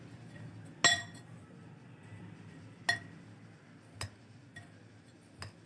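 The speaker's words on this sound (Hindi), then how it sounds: "अब इन सारी चीज़ों को हम मिक्स करेंगे।" A spoon strikes a glass while mixed ingredients are stirred, giving four sharp clinks spaced a second or two apart over a quiet, low background.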